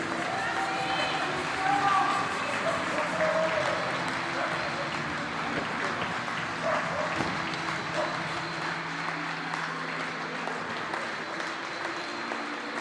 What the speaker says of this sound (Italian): Un applauso per il Fenice Venezia Mestre.